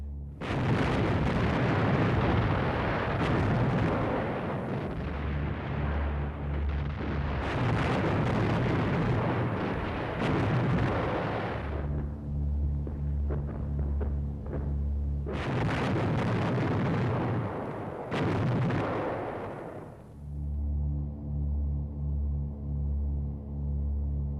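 Bombers pound the front line at Monte Cassino in a wartime battle, heard as long, heavy rumbling blasts and roaring explosions that swell and fade over a deep droning hum, with a few quieter pauses between barrages.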